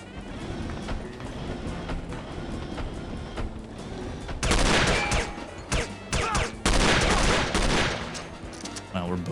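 Loud bursts of gunfire in the No One Lives Forever game, rapid volleys that start abruptly midway and continue in dense clusters over a busy background of game ambience.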